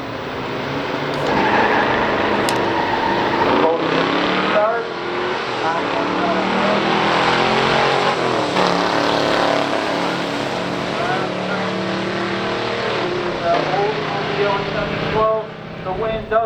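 Drag race between a 1968 Oldsmobile Cutlass W31 4-speed and a 1972 Pontiac GTO 455 HO 4-speed, with engine roar sustained throughout under an announcer's steady commentary.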